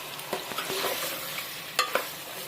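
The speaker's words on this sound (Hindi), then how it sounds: "और अभी इसमें हम डाल देंगे अपने चिकन को और इसको अच्छे से मिक्स कर देंगे।" Chicken being stirred in a hot pan for masala pulao gives a constant sizzle of frying, broken by a few scraping clacks of the spoon against the pan. The sound is close and fairly quiet, with no talking.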